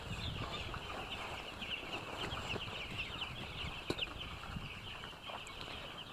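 A flock of ten-day-old chickens on a poultry farm peeps and chirps continuously in a dense, even chorus. The birds sit close on rice-husk litter, with occasional faint rustling among them.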